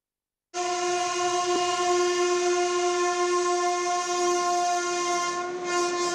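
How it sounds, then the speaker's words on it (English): Indian Railways Oxygen Express sounding its horn, a loud, sustained multi-tone blast starting abruptly and holding for several seconds, close by, with faint rail rumble beneath. "This is not a regular train. This is Oxygen Express."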